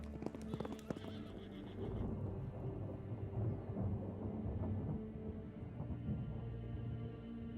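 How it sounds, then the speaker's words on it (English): Horses gallop along a road, loud rhythmic clip-clop of hooves with a whinny at the start, layered over distant thunder and rain in a dramatized ancient Persian scene; no talk. "the news raced back to King Darius, at the pace of the empire's fastest horses"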